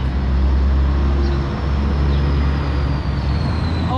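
Steady roar of road traffic as cars and trucks pass on a street in Homestead, Florida, a continuous loud rumble with low engine drone and a brief hiss like an air brake, no talking.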